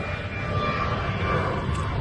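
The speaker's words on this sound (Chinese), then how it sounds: "这里挨的是飞机场，所以经常有飞机降落，声音比较特别的吵" A steady roar of an airplane landing near the airport in Sanya, Hainan, with a faint whining engine tone, continuous and fairly distant.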